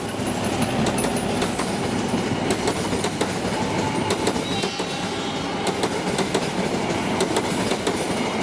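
The Jayabaya passenger train passes through Karawang station with a loud, continuous rumble and rhythmic wheel clatter close by, and a few sharp clicks cut through the roar.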